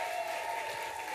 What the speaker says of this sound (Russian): Поприветствуем бурными аплодисментами.